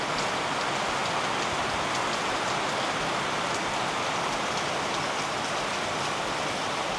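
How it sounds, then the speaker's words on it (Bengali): Steady rain pours down in the hills of North Bengal near a homestay, a dense uniform hiss of drops on surfaces that continues unchanged throughout, with no voices. "পাহাড়ে বৃষ্টি পড়ছে, এই বৃষ্টির সাউন্ড শোনো"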